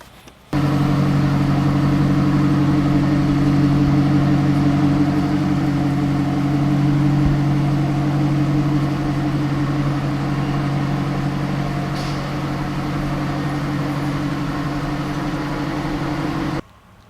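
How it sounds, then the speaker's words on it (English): A Cadillac XLR engine holds a steady, loud, close low drone for about sixteen seconds, starting and stopping abruptly, with no speech. "Going back to the motor, they sound good. It has, I would say, a good snarl to it. You'll hear it here in a moment."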